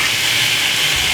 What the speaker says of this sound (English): I might pop a little bit more oil in it.